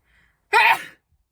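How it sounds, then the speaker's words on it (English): A single sharp sneeze bursts out close to the mic during a casual spoken update, loud and brief, with near silence before and after. "Sorry, I have to sneeze."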